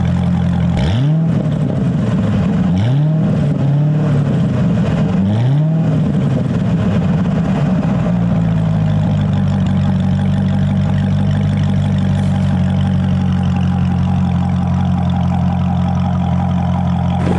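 A 2013 Chevrolet Corvette ZR1 engine revs hard three times in quick blips, then settles into a steady, deep idle rumble close by.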